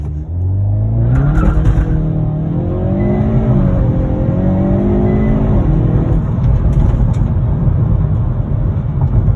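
A 2021 Hyundai Veloster N with an 8-speed dual-clutch transmission launches with launch control on a bumpy road, its engine roaring loud and close as the pitch climbs through successive rising sweeps.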